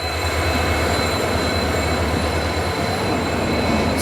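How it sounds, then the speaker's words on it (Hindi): A Parli–Purna passenger train pulled by a diesel locomotive arrives at platform 2 of Parbhani Junction, giving a loud steady rumble of rolling wagons with faint wheel squeal throughout. "और परभनी जंक्शन के प्लेटफॉर्म नंबर 2 पे आ चुकी है परली पूर्णा पैसेंजर।"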